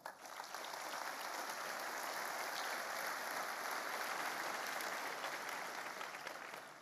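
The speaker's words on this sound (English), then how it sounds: "Let's give them a round of applause." An audience at the GTC 2017 Nvidia GPU technology conference applauds in a sustained, even wash of clapping that stays steady from start to finish.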